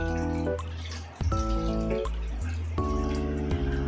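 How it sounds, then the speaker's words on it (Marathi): Cold water poured over freshly cooked whole wheat noodles to rinse them, a loud splashing flow from a tap that starts, pauses briefly and resumes in short bursts, close and alone. "त्यावर थोडं थंड पाणी टाकून घेऊया, म्हणजे त्या एकमेकांना चिपकणार नाही."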